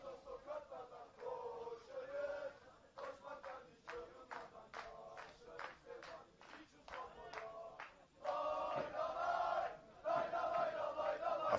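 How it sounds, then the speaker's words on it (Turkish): Malatyaspor football fans chant in a stadium during a match against Hekimhan Bld Girmanaspor, a distant crowd with rhythmic clapping that swells louder toward the end, under a commentator's voice. "Malatya spor taraftarları hemen anlatım yerimizin altında takımlarına tezahürat ediyorlar"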